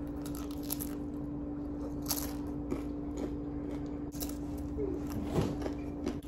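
Close-up chewing and biting of crunchy air-fried pot stickers with spicy mayo, several loud crunches and wet bites spread over a steady low hum.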